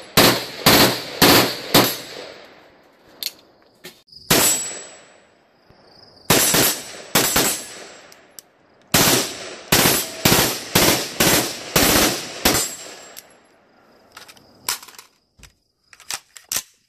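Sharp, loud gunshots from a CZ Bren 2 rifle with a 10.5-inch barrel crack out in quick rapid strings and short bursts, separated by brief pauses, each report close and ringing.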